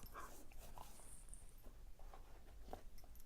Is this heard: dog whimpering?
yes